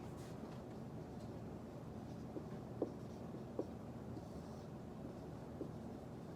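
A marker squeaks faintly in a few short strokes on a classroom board, isolated ticks against a steady room hum with no talk.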